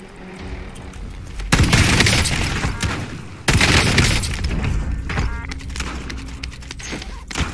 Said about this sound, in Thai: มันเสียงปืนอ่ะ